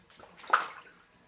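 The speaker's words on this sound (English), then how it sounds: "standing water everywhere." Water sloshes and splashes underfoot in a flooded room with standing water, a single near, brief slosh without talk.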